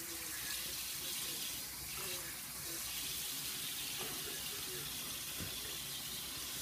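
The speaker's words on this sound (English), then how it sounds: "So rinse out the conditioner" Running water rinsing conditioner out of a child's hair, a steady moderate splash and trickle like a tap flowing over a head, continuous throughout with small splashes.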